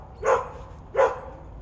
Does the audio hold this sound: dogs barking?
yes